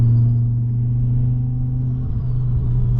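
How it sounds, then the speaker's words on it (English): A Volvo S60R with a big turbo and stock EFR compressor bypass valve idles with a deep, steady engine rumble close to the microphone, a faint high whine above it and a slight dip near the end. "I'm running the stock EFR compressor bypass valve with the heavy duty spring"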